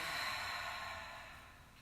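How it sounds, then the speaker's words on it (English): A soft, close breath drawn deep through the nose and let out during a morning yoga session, a gentle airy rush that fades away alone. "Let's take a great big inhale through the nose. Exhale, let it go."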